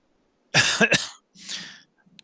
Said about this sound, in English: He drew in deeply, exhaled, coughed.